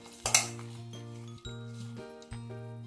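Cutlery clinking against a bowl while sabudana vada ingredients such as coriander and cumin are mixed, a sharp clatter at the start and then a few softer scrapes and taps at a steady pace, close and fairly quiet.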